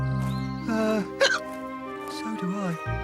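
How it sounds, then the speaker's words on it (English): A fox in a 1999 animated cartoon hiccups once, a short sharp catch in the voice amid voiced character speech and soft background music. "I hope your hiccups are gone by the morning."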